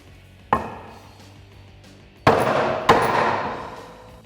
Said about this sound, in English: I'm going to hammer this guy on.